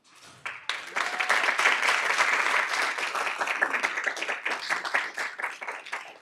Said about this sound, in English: And if you join me in giving me one more round of applause for all of these wonderful students and their hard work.